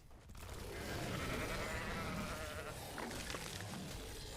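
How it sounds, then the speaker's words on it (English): Sheep in the video game ARK bleating, a few drawn-out wavering bleats, faint and set against a busy background of game noise. "I wish I could get a sheep."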